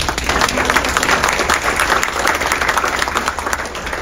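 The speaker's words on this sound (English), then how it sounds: "You can clap for them." An audience at a golf course scholarship event claps for interns, a close, steady wash of applause with no voices over it.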